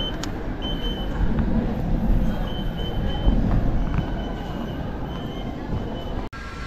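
A metro train rumbles and rolls through a station in Kuala Lumpur, a loud sustained roar with faint high squeals and tones, ending in an abrupt cut.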